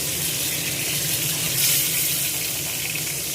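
Water gushes steadily from a tap into a vessel in a home kitchen while a fish curry is being cooked, a constant close hiss that swells slightly midway.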